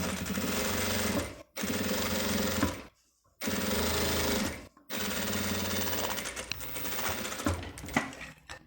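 A sewing machine topstitches only through the lining of a classic zippered toiletry pouch, running in loud continuous bursts with three short pauses between stitching runs.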